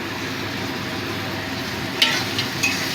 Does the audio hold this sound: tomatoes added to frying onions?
yes